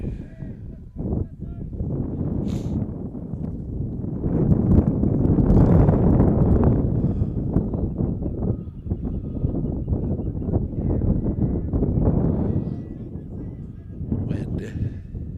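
Wind gusts buffet the microphone at an outdoor high school baseball game, a steady low roar that swells and eases, under continuous talk from a commentator.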